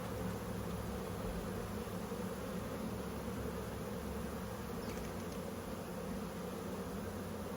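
Honey bees buzz steadily around an opened beehive during a brood inspection, a dense, continuous hum at moderate level with no talking.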